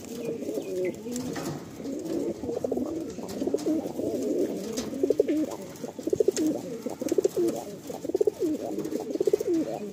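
Madrasi pigeons coo continuously in a loft in low, throaty murmurs, several birds overlapping close by, with faint background noise.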